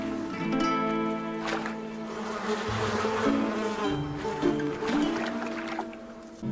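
A swarm of sea flies buzzes steadily nearby, their overlapping drones rising and falling in pitch as they hover and dart around.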